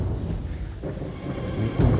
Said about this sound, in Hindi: कितनी जोरदार बारिश हो रही है